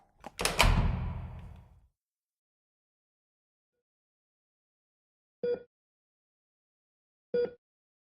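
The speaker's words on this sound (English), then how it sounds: "the metal door shut with a click" A heavy metal door swings and shuts with a thunk, then two short, sharp clicks follow a few seconds apart in quiet surroundings.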